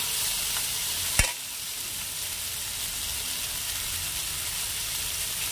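Country chicken frying in a pan with a steady, moderate sizzle throughout, broken by one sharp clack of a utensil early on.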